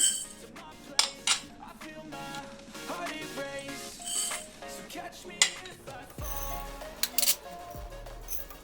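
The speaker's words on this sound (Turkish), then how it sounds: "Sırasıyla bütün malzemelerimizi ekliyorum" Ingredients for a winter vitamin soup go into a pot one after another, with metal utensils clinking and tapping, a few dull thuds and soft rustling, close and fairly quiet.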